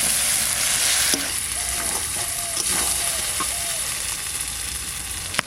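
Duck meat sautéed with new potatoes for a village-style Bengali duck curry, giving a loud, continuous sizzle with occasional stirring clinks, close and steady.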